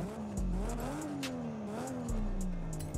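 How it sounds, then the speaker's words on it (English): A JDM car with a street exhaust in the video game Forza Horizon 5 revs and drops repeatedly, the throaty exhaust rising and falling in pitch with crackling pops, loud and steady throughout. "That street exhaust, oh my gosh"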